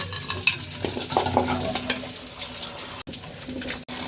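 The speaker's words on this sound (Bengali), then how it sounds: "এই ফাঁকে আমি যে সবজিগুলো ধুয়ে নিই" Vegetables washed under running tap water in a sink while onions fry nearby, with steady splashing flow, handling noises and two abrupt cutoffs near the end, close and without talk.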